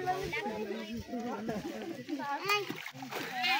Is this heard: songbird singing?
no